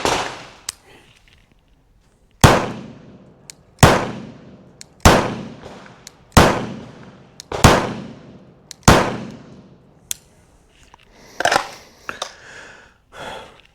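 A SIG P211 pistol firing rounds downrange at an outdoor range: six loud, sharp reports at roughly one-to-one-and-a-half-second intervals, each with a short ringing decay, followed by faint clatter and movement.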